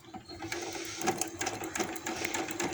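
A sewing machine runs continuously, stitching the seam of a baby boy's hoodie shirt with a close, steady mechanical whir.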